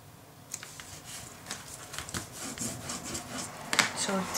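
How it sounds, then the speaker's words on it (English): Paper being burnished onto a decoupaged cabinet, heard as a series of close, scratchy rubbing strokes against the wood in an uneven rhythm, moderately loud throughout. "make sure that you burnish it"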